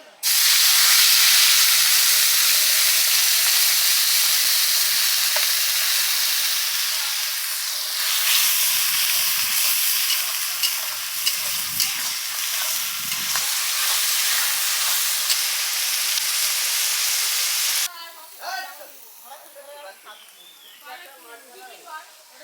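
Ginger, garlic and onion paste hits hot oil with a loud, sustained sizzling hiss, cooking a mutton curry on a wood-fired stove; the hiss fades abruptly after about eighteen seconds into softer crackling.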